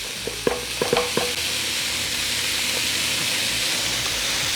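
Meat and noodles for drunken noodles hit a hot pan: a few quick metallic clanks and scrapes at first, then a loud, even sizzle that carries on without speech.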